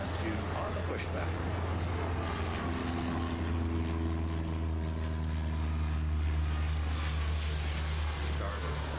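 Airliner jet engines spool up for takeoff in the airport simulation game Airport Madness World Edition, a sustained loud droning roar with rising tonal whine throughout, while a voice gives radio-style clearances over it.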